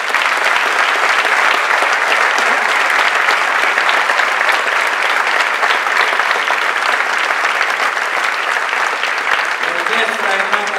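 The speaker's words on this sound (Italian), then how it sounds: "E io chiedo a tutti voi di fare un grande applauso a questo." Dense, sustained applause from a large concert audience at the Auditorium Parco della Musica fills the hall loudly and evenly, a continuous roar of clapping from start to finish.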